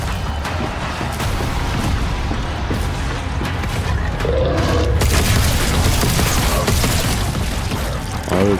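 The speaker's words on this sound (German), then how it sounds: "Die scheiß explodierenden Viecher." Loud, dense booms and crashing blasts from exploding creatures in the sci-fi horror game The Callisto Protocol, with continuous rumbling chaos throughout and a brief voice near the start.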